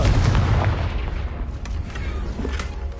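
A Confringo spell blast in Hogwarts Legacy bursts with a loud, heavy boom up front, then rumbles and crackles into a lingering fiery tail of low thuds and debris.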